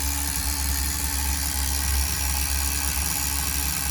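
A Tamiya TGS-R nitro RC engine running steadily at factory carb settings during break-in, a loud, even, buzzing drone held close throughout with no voices.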